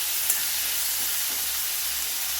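Diced large tomatoes and two green chilies soften in a pan for a tomato-brinjal chutney, giving a steady, close frying sizzle and hiss that runs evenly with no voices.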